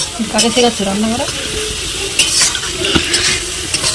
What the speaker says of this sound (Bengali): এখন দিয়ে দিল আলু ভাজা